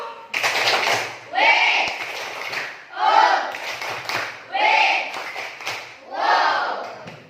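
A group of teachers in a classroom workshop performs the Indonesian tepuk wow clapping chant, with rhythmic bursts of sharp claps alternating with shouted group calls, five distinct rising phrases spaced about a second and a half apart.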